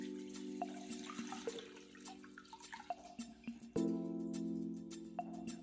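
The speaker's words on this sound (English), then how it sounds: "Pour the almond milk into the saucepan." Almond milk flows into a saucepan in a steady, faint liquid pour with small splashes and drips, a slight surge midway, heard up close without talk.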